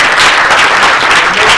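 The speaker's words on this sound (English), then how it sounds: "applause." Audience at a know-your-rights training seminar breaking into applause, close and loud steady clapping throughout the short burst.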